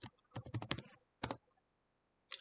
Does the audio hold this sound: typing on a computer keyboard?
yes